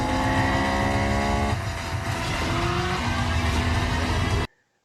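Street race car engines from the film 2 Fast 2 Furious, loud revving roar with shifting pitch steps as gears change, close and continuous before cutting off abruptly.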